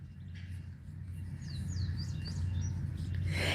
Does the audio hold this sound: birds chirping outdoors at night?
yes